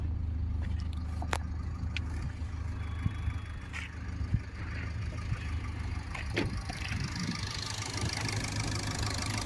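A Toyota Etios Liva diesel hatchback with a 1300 cc engine idles nearby in a steady, low, even hum with faint rattles and scrapes, and no talking.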